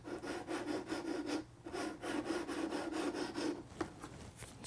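A Razer DeathAdder Elite mouse slides back and forth on worn feet across a pad, giving a steady series of near, scratchy rubbing strokes with a short pause in the middle and no talk.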